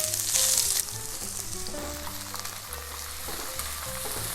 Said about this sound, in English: Heat the pan over medium heat, and we're going to start from onion.